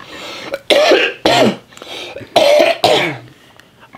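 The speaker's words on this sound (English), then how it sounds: "You've had the death cough" A person coughs hard in several loud, harsh bursts, close up, with short pauses between fits.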